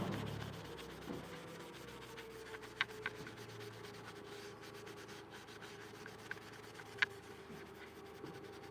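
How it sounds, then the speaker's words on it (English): A cloth or pad lightly buffs a sticky oil finish on a wooden cabinet, producing a soft, continuous rubbing hiss with occasional faint ticks, quiet and close. "if I kind of lightly buff it, then I can get that stickiness off"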